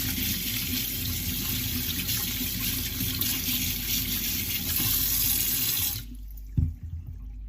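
Cold tap water runs steadily into a sink while sweet potatoes are scrubbed clean with a new sponge, a continuous close splashing flow that stops abruptly near the end, followed by a brief clunk.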